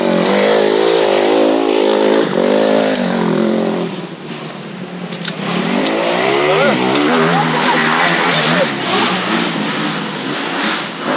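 An Apollo RFZ motorcycle engine revs hard, a loud close buzzing whine rising and falling in pitch through repeated throttle blips, with a brief dip midway before climbing again.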